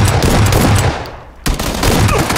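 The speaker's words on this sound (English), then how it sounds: "I may have just shot Ken." Dense automatic gunfire in the battle royale game PlayerUnknown's Battlegrounds, loud and continuous bursts that briefly drop off before a sharp return of sustained firing.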